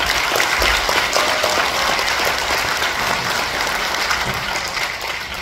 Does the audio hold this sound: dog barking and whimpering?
no